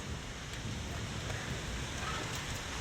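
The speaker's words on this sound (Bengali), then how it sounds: "এই যে বৃষ্টি পড়ছে" Steady rain falls in a continuous hiss, even and unbroken, with no voices over it.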